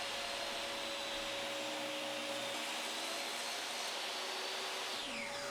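A table saw runs steadily with a loud, continuous high-pitched whine as a board is pushed along the fence, the tone holding evenly before dropping away at the end.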